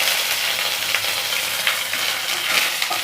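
Mustard seeds with cumin and a little fenugreek frying in hot oil, a steady dense sizzle with small crackling pops throughout, close and fairly loud, no talking.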